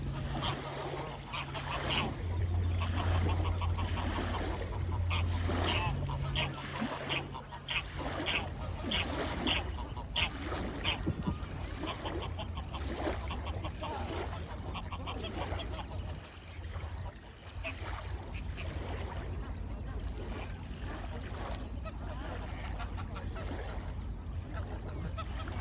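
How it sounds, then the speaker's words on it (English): A mixed flock of ducks and geese honks and quacks in a busy, continuous chorus near water, with people talking over the calls throughout. "You've got so many different types of ducks."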